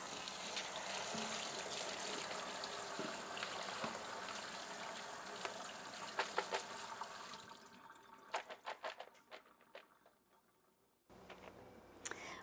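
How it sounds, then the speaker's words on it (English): Green beans are rinsed under a running tap: a steady, faint rush of water, then broken splashes and clatter as the flow falters, stops briefly and resumes. "So we're going to start by washing those beans."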